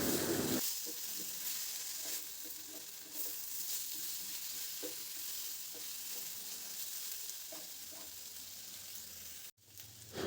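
Onion, ginger and green chili paste fry with raw plantain in a pan, giving a steady, close sizzle that runs throughout with occasional stirring scrapes and no talking.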